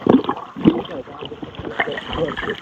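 A boat ride on open water, with steady wind buffeting the microphone and broadband water and motion noise, while voices talk throughout.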